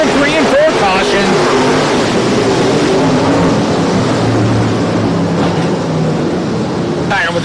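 Dirt track race cars roaring around a county fair oval in Dubuque County, a loud continuous engine drone with revving, under a commentator's running talk.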